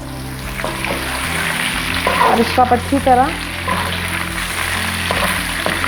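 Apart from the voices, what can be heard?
vegetables stir-frying with bell pepper in a pan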